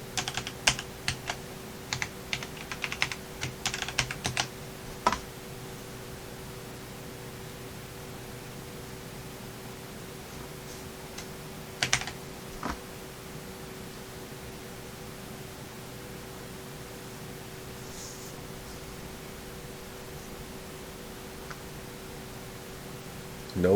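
Password typed on a computer keyboard while setting up Windows 10 in VirtualBox: quick bursts of close, crisp keystrokes early on and again briefly midway, over a steady faint hum with long quiet stretches.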